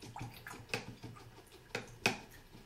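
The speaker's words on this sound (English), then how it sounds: "I'm going to rinse out this brush." A paintbrush is swished and tapped in a cup of water, giving faint, close splashes and several sharp little clicks against the cup over a few seconds.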